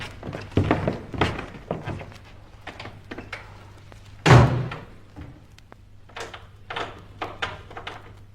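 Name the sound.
doors being shut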